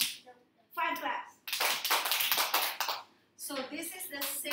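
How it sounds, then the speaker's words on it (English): A group of children claps along in a classroom lesson, bursts of several hand claps separated by short pauses, mixed with young voices and chatter between the rounds. "five claps"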